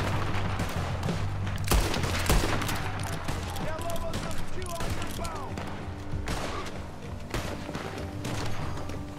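Shots ring out continuously during a gunfight in the Red Dead Online western game, a busy mix of rifle and pistol cracks with heavy thumps, loud and steady throughout, with voices talking underneath.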